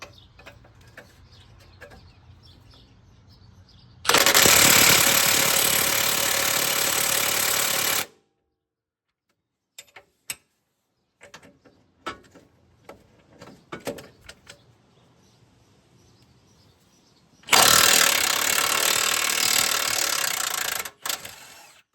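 An impact wrench runs on a 22mm strut bolt during front strut replacement on a 2007-2021 Toyota Tundra, firing two loud, sustained bursts of about four seconds each, separated by quieter clanks and handling noises.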